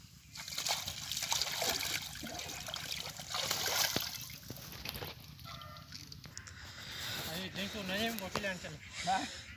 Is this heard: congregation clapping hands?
no